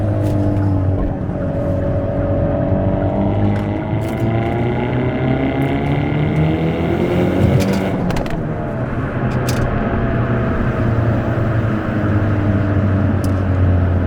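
A 2026 Hyundai Elantra N pulls hard through second gear on a city street, engine revs climbing steadily from inside the cabin, then a brief shift dip before rising again.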